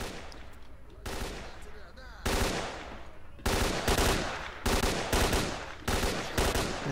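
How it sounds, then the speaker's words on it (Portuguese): Bursts of automatic gunfire in a shootout from the video game S.T.A.L.K.E.R.: Clear Sky, loud, with several separate volleys spaced through the scene and short gaps between them. "Entrar no meio do tiroteio aqui"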